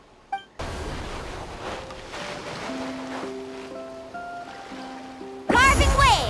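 Character riding across water in the Genshin Impact video game, a steady rushing wash of water under soft tonal game music, ending in a loud close splash of waves; a voice is heard briefly.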